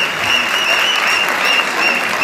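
Loud, continuous clapping from an audience at an award ceremony, an even dense rattle of hands with a thin tonal whistle running faintly through it.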